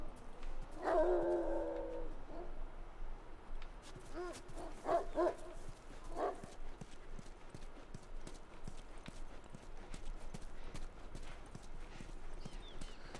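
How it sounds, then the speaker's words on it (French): A dog barking in The Last of Us video game, a few sharp barks early on, moderately close, amid game ambience with clopping and other sounds. "J'ai entendu un chien pour de vrai?"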